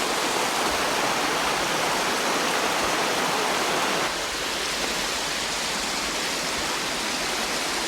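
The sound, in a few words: mountain creek water flowing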